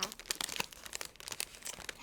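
Crinkly plastic Magnum ice cream wrapper being crumpled up close, a steady run of sharp crackles and rustles with no talking.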